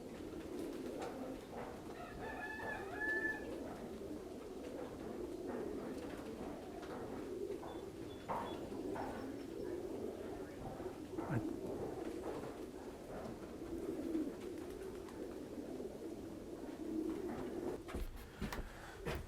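Pigeons in a racing pigeon loft coo and flutter at close range, with a steady murmur of birds throughout and a person talking at moments among them.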